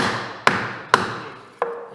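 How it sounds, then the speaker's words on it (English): Three sharp hammer blows strike a log being driven into a slot for a log spiral staircase, each a crisp woody knock with a short ringing decay, spaced unevenly and close up with no voices. "we usually take a good sized hammer and nail it in the end"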